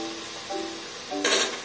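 A burst of hissing sizzle as carrot and beetroot hit a hot pan for vegetable biryani, short and fairly close, after a quieter stretch of low kitchen hum.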